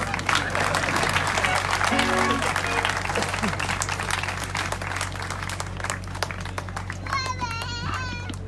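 A crowd claps steadily throughout, with children's chatter and murmuring voices mixed in and a brief whistle-like warble near the end.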